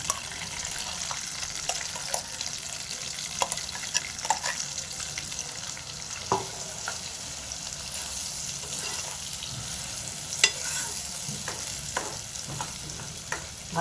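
Ground masala sizzles in hot oil in a kadhai, a steady, close frying hiss broken by occasional scrapes and clinks of a stirring spoon, with no voices.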